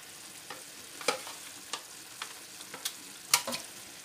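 Aubergines cooking in a pan for a Congolese tripe dish in white sauce, a soft steady sizzle punctuated by intermittent spoon clicks and scrapes against the pan; no talking.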